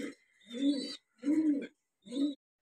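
Fancy pigeons at a pigeon farm give three close, clear cooing calls, each a rolling throaty coo of about half a second with short silent gaps between them.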